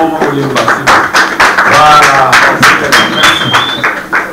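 An audience at a conference gathering applauds, with dense clapping and scattered cheers rolling steadily under a speaker's voice and loud crowd noise.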